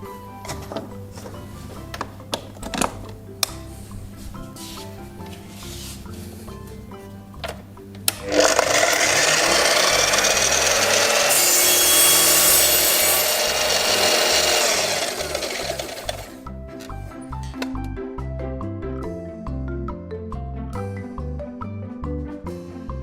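A mitre saw spins up and cuts through wood in a loud, rasping whine lasting several seconds, then winds down, with quieter handling knocks before and after in a training workshop.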